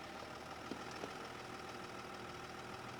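A Chevy ZR2 pickup engine idles low and steady as the truck crawls over off-road blocks on a light throttle, a quiet continuous drone with two small knocks along the way.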